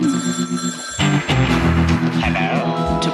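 Telephone bell ringing loud and close in a steady sustained trill, with a sharp burst as it starts and no talk.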